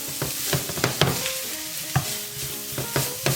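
Cumin, black pepper, salt, garlic powder and chillies are lightly roasted in a pan, giving a soft steady sizzle broken by repeated scraping stirs and clinks of a spoon against the pan.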